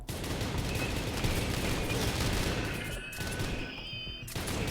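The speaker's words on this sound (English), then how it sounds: "we got mortars coming in, which aren't doing a mass amount" Incoming mortar fire during a RimWorld battle comes as dense, crackling bursts of blasts that run together, loud and nearby, dropping out briefly before resuming.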